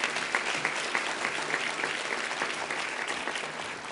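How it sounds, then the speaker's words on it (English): Steady applause from a large audience at a Good Jobs, Green Jobs conference, dense and sustained clapping throughout with no voices standing out. "please give another big round of applause"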